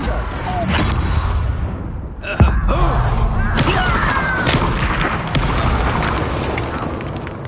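A Confringo fire spell from Hogwarts Legacy goes off as a single sharp boom over dense game music and effects, followed by the clatter and rumble of the blast.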